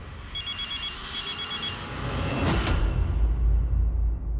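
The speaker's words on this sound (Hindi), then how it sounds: "अरे फोन उठाइए" An old-style telephone rings in two quick electronic bursts of trilling tones, moderately loud and close, then gives way to a rising whooshing rush of noise.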